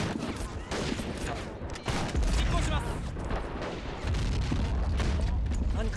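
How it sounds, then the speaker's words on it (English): Dense, continuous gunfire and mortar blasts in the video game Men of War: Assault Squad 2, loud overlapping rattling shots and booms with no break, partly mixed with voices. "Alright, mortars, open up now."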